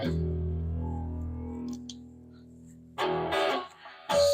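An electric guitar played through a Tech 21 distortion pedal with a built-in boost: a sustained chord rings and decays, then sharper, harsher driven strums hit in short bursts.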